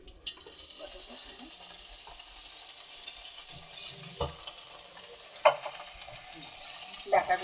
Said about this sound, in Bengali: আলুগুলো প্রায় ভাজা হয়ে গেছে আর বেশি ভাজলে ভালো লাগবে না হালকা করে ভেজে নিলাম